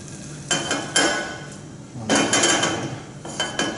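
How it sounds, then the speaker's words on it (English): Butter swirled into a gently simmering sauce in a pan, with bursts of metallic pan rattling and clinking from vigorous shaking over a soft bubbling background, close by, no talking. "So as the sauce comes up to a little gentle simmer, just drop in your butter and just shake it in."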